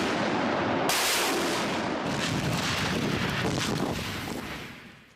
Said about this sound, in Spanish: Las órdenes de disparo son frecuentes. Es la cuarta vez en pocos minutos.